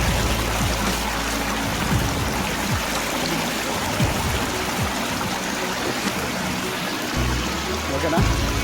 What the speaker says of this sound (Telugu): రాయపాలెం వాటర్ ఫాల్కి అయితే వచ్చేసాము